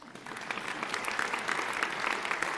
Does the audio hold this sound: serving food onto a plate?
no